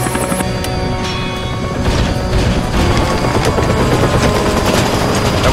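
Loud, dense roar of a helicopter in a sci-fi film, its rotor failing, with crashing, thudding impacts and booms layered over a continuous rumbling drone that swells slightly partway through.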